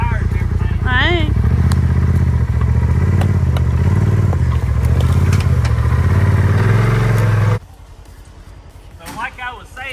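A Polaris Xpedition Northstar off-road vehicle's engine runs loud and steady, revving under continuous talking on a trail, then cuts off abruptly toward the end.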